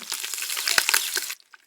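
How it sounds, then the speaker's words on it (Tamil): Curry leaves drop into hot oil with popped mustard seeds for a dried-fish karuvadu koottu, giving a loud, dense crackling sizzle that cuts off abruptly after about a second and a half, leaving faint pops. "கருவேப்பிலையை இப்ப சேர்த்துக்கலாம்."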